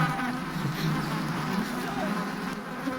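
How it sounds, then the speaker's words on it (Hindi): A swarm of honeybees buzzes in a dense, steady drone that fills the whole scene, loud and continuous with no pauses, set in a dramatic film chase. "मधुमक्खियों ने हमारी तरफ यूटर्न ले लिया।"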